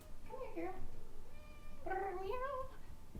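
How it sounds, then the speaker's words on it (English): A house cat meows to be let in from outside, two drawn-out, rising-then-falling cries a short distance away, with a faint tonal hum between them and no talking. "I think the cat needs to come inside."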